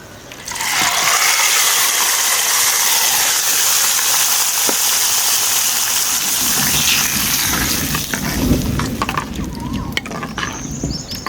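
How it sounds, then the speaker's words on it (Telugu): Tempering is poured into curd rasam, heard as a steady, close liquid gush and pour running for several seconds without a break, with a faint sizzle-like hiss and no talking. "ఇప్పుడు ఈ తాలింపును ఇందులో పోసుకుందాం"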